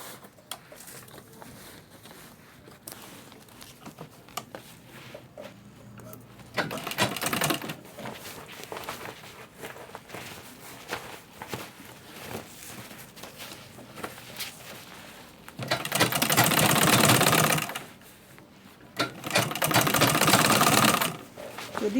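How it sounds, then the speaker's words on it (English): Sewing machine top stitching a lunch bag in bursts, two strong runs of stitching standing out against quieter handling noise and faint background sounds. "So I'm going to top stitch it."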